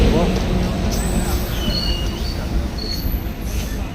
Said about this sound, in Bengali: ট্রেন চলে এসেছে আর এখন আমরা ট্রেনের মধ্যে